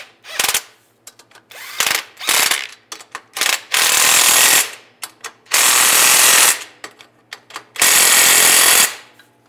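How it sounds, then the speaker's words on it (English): A hand ratchet with a 14 mm socket tightens a clamp during rear main seal work on a 2007–2013 Chevy Silverado, giving fast clicking bursts, several of them sustained rattling runs separated by short pauses, close and loud. "Now we'll tighten up the clamp. Use a 14 millimeter socket."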